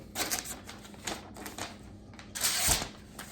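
Condor Selknam woodsman's knife slicing through paper in a sharpness test, a series of close, crisp rasping cuts with quick scratchy bursts and a louder stroke near the end.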